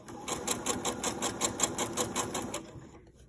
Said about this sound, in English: lift your presser foot up angle your fabric and begin sewing again